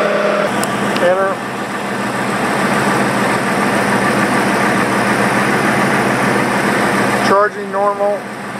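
A 1984 Corvette engine runs at a raised, steady 2500 RPM, a continuous loud drone, with brief electronic beeps from test equipment at the start and end.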